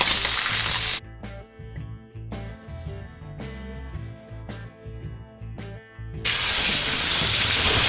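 Tomahawk pork steaks sear in a smoking-hot cast iron pan with a loud, crackling sizzle at the start and end. Between the bursts of sizzle, a stretch of music plays.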